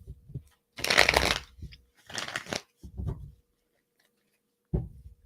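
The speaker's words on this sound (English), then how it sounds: "Let me pull some cards for you, sweet one." A deck of tarot cards is riffled and shuffled up close in several quick, crisp bursts separated by short pauses, with no talking.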